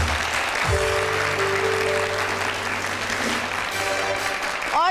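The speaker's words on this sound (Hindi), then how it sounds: "तो फिर एक दफ़ा अपने लिए खुद ही तालियां बजाइए" Studio audience on a TV show applauding, a dense continuous wash of clapping, steady and fairly loud throughout, with a brief tonal sound underneath and a voice near the end.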